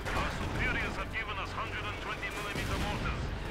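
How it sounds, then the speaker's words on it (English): A light artillery barrage fires during a Company of Heroes 2 match: dense rumbling blasts and crackling gunfire under continuous talk from a commentator. "follow up with the light artillery barrage to clear out the enemy artillery"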